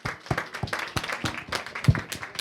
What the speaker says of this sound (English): can I just get a round of applause for all the ladies in the room